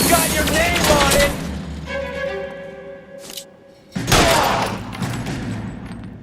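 Gunfire in the 1940s detective game L.A. Noire, with loud bursts of shots at the start and after a brief lull, set against music and game noise with no talk over them.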